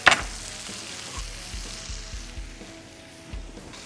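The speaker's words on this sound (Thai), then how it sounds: "ในกระทะกุ้งเราก็ทอดให้เขากรอบนะครับ" Shrimp frying crisp in a pan, a soft steady sizzle with a few low thumps and stirring knocks, fairly quiet and without talk.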